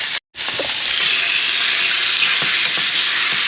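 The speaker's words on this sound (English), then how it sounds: "I cut the chicken up when it's in the skillet." Chicken pieces searing in a hot skillet for fajitas, a loud, steady, close sizzle and hiss filling the whole stretch, with a brief dropout near the start and faint scraping ticks underneath.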